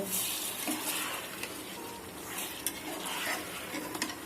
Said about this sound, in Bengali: সব মশলাপাতি দিয়ে এখন সুন্দর মতো কষিয়ে নিচ্ছি